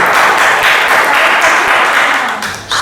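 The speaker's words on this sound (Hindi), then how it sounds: "तालियों से।" An audience gives dense, steady applause to welcome a melody singer at a Hindi Diwas poetry gathering. The clapping holds strong, then tapers off at the end.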